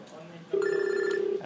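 A BlackBerry mobile phone rings with an incoming call: a single steady electronic tone starts abruptly and holds for about a second, close and fairly loud over a quiet room.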